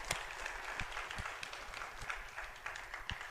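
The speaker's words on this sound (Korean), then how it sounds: "하나님께 영광의 박수 올려드리겠습니다" Congregation clapping at a Jeonju Christian Council joint Easter worship service in 2021, a steady wash of applause with scattered distinct claps, moderately loud and continuous throughout.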